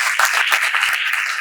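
An audience at an education talk in Mumbai on India's digital growth breaks into steady, dense clapping that holds evenly for the whole moment, close and fairly loud.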